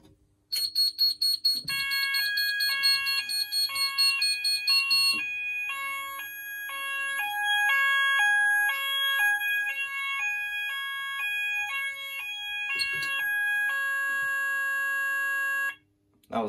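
A Syncro AS two-loop addressable fire alarm panel sounds after a call point is pressed, an electronic alarm tone that keeps switching between stepped, rhythmic pitch patterns, loud and steady for about fifteen seconds before stopping.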